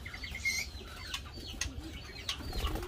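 An oriental magpie-robin gives short, bright chirps and whistled calls over a low background rumble, a few brief notes spread across a couple of seconds at close range.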